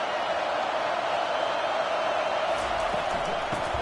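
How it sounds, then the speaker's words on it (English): Constant, dense stadium crowd roar at a college football game, loud and sustained, with a few thumps and a faint voice near the end. "this crowd is turning it up a notch"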